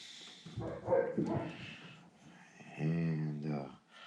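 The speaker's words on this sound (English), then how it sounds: "And there goes the dogs." Dogs bark a few times at moderate distance, in short uneven bursts mixed with someone talking nearby.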